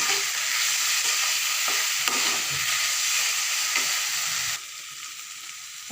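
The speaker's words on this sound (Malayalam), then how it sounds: "ഈ എണ്ണ കിടന്ന് തന്നെ ഒന്ന് വേവണം, ഒന്ന് വഴന്നെടുത്താൽ മതി" Mushrooms sauté in oil in a pan for a mushroom curry, a loud continuous sizzle with scraping stirs throughout that drops noticeably quieter near the end.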